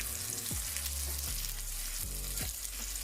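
Onions sauté in a pan beside frying salmon, giving a quiet, continuous sizzle with a few low scraping strokes from stirring, with no voices.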